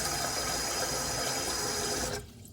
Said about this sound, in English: We got water going through there.